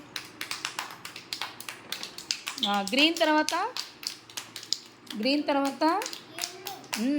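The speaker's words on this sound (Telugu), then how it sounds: "క్లాప్స్ కొట్టండి అందరూ" Anganwadi children clapping in a rhythmic run of quick, bright hand claps, close and lively, while an adult voice and children's voices speak over and between the claps.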